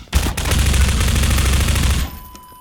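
Sustained machine gun fire in Half-Life 2, a dense, loud rapid burst of shots lasting about two seconds before cutting off abruptly into quiet.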